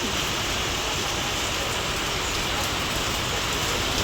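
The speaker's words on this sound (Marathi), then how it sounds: "त्या खतावरती पाऊस पाणी पडत आहे" Heavy rain pours steadily on farmland and a roadside in Ardhapur taluka, a dense, constant hiss close by that runs without a break and with no voices over it.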